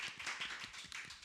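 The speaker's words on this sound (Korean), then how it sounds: "큰 박수로 맞이해 주세요." Applause welcoming a guest speaker at a youth autonomy research institute gathering, a short burst of quiet clapping from a small audience, fairly even and brief.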